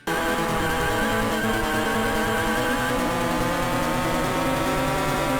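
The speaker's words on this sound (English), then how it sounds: "Nothing beats the sound of a highly tuned car shifting gears on a straight bit of a circuit." A racing car engine in the Game Boy Advance game GT Advance Championship Racing, a loud, continuous synthesized buzzing drone that holds steady for the whole stretch with no pauses.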